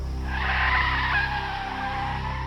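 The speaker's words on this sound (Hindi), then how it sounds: "उन्होंने जोर से ब्रेक लगाया" A car braking hard and skidding, a sustained tire squeal and screech over a low engine rumble that swells and then gradually eases off.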